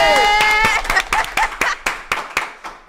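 Podcast hosts clap in a loose, uneven run of sharp claps, loud and close, over the tail of a voice and a sustained tone at the start.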